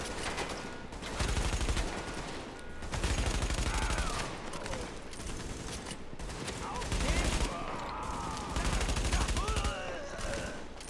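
Gunfire in the video game The Division: repeated bursts of automatic fire and scattered shots, loud and close, in several clusters over a steady battle background, with a voice speaking at points.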